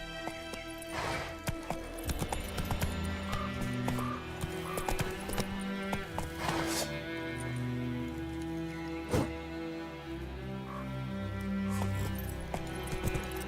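Roach, a horse in the video game The Witcher 3, gallops with rapid rhythmic hoof clip-clops and a brief whinny, close and clear over background game music, with sharp impacts scattered throughout.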